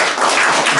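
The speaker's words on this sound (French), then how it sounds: "Applaudissements pour notre frère." A church congregation at a Sunday service applauds a guest, a brief burst of dense, steady clapping that fills the room.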